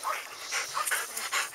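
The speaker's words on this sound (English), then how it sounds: "I'm here to introduce you to my dog, Roscoe, the tripod dog." A three-legged mixed-breed dog, part Chow, pants in quick, steady, rhythmic breaths close to the listener, with no talking.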